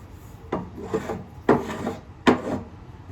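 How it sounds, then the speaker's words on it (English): Sandpaper rubbing across a wooden Spanish Mauser rifle stock, three distinct close rasping strokes spaced about a second apart over a soft background. "All you have to do is hit that with some sandpaper now."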